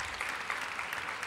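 Church congregation applauding during a worship service, a soft, steady patter of many hands clapping heard from some distance, continuous and even throughout without any voices.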